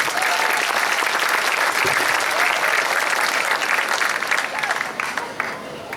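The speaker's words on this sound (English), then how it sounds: "One more big round of applause for the lacrosse team." Sustained, loud applause from an audience at a school varsity sports awards ceremony honoring the lacrosse team, dense clapping continuing steadily throughout with a slight fade near the end.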